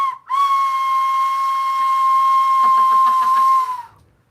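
A convor bird call from Star Wars Galaxy's Edge: one sustained, steady whistle-like tone lasting several seconds, loud and close, with a brief fluttering wobble near the end before it cuts off.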